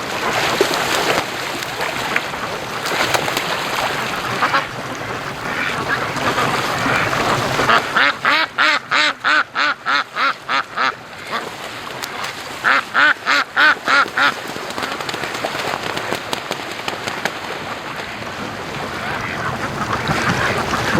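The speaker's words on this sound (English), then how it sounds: "There's a whole bunch of ducks over here fishing" A flock of free-range ducks on a lake, quacking loudly and close by in rapid repeated bursts. Stretches of rushing background noise sit between the bursts of quacks.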